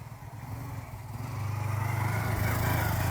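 Motorcycle engine running close by, with a low throbbing hum that grows louder and more steady as it revs up.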